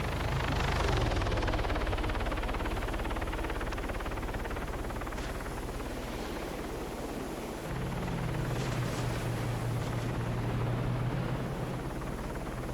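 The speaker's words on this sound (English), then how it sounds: "we do have that aircraft flying overhead" Aircraft flying overhead in a video game, a steady loud helicopter-like rotor drone that swells early on, then settles into a continuous rumble with a low engine hum joining partway through, no voices.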